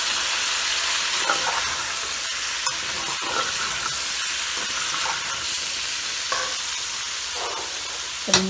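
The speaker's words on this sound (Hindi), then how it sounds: "टमाटर डाल के भी हम इसे थोड़ा सा भूनेंगे।" Potatoes and tomatoes fry in a pan with a continuous loud, broad sizzle and hiss, marked by occasional spatula scrapes and stirring knocks and no talk.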